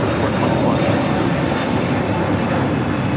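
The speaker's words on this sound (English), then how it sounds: "That is a Mint Summer Night's Dream taking off to JFK on the A321neo with JetBlue Flight 424." A JetBlue Airbus A321neo takes off from LAX on its way to JFK, a steady loud roar of jet engines filling the air without letup.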